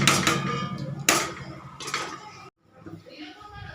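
A lid placed on a metal cooking pot while Pakistani-style chicken cooks, several sharp metallic clanks and clinks close by, then a sudden drop to quieter kitchen sound.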